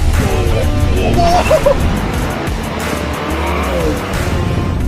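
A Volvo S90 plug-in hybrid and a 2.0T Audi A6L accelerate hard from a standstill in a 0-100 km/h sprint, a loud, continuous engine and road roar with a brief tire squeal, close and steady throughout.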